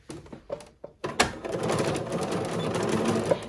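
A sewing machine stitches a quarter-inch seam along the casing of an embroidered face mask. After a few faint taps, a steady, close whirring run starts and continues to the end without talk.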